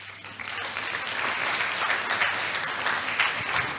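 Sustained audience applause at a science award event in Bologna, a dense steady wash of many hands clapping, filling the hall without talk.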